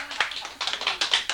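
An audience claps at a Buddhist sutra lecture in short, uneven bursts of hand claps, moderately close, with a brief pause near the start before the clapping picks up again.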